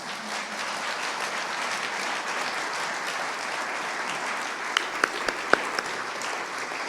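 Sustained applause from an audience for county staff at a State of the City and County event, steady and full for several seconds, with a few sharper claps standing out near the end.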